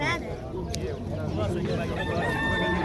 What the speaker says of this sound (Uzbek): Chaqiryapti ekan xo'roz.